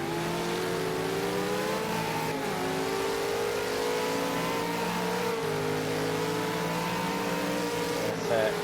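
Race car engine from the Project Cars racing game, a V8 Supercar lapping Bathurst's Mount Panorama, holds a steady high-pitched rev near redline throughout, with pitch sliding slightly between gear changes and a commentator's voice faintly underneath.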